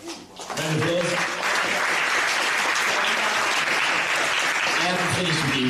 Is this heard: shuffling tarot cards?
no